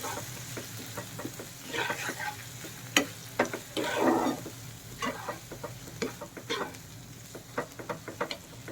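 A utensil stirs and scrapes through cumin paste, spices and onions frying in a pan, a low sizzle running underneath the irregular clinks and scrapes.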